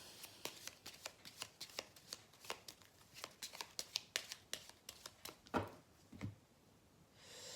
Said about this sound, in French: je vais tirer quelques cartes du Petit Lenormand